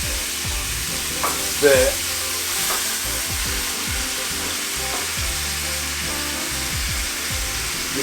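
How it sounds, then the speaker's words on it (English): Meat sauteing and browning for Sunday ribs, a steady loud sizzle and frying hiss throughout with a few brief stirring knocks and a word spoken near the middle. "you take the meat and you saute them and you brown them"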